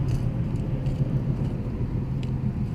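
Continuous road traffic near a colonial-era field site, a steady low rumble of passing cars with no breaks, heard alone without talk.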